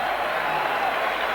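A boxing arena crowd of over 13,000 at a state fair roars and applauds in a dense, sustained wash of cheering.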